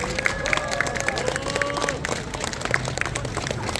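Applause and crowd noise from an outdoor memorial cultural festival audience, a steady, diffuse clapping wash with scattered sharper claps and faint tonal background sounds, moderately loud throughout.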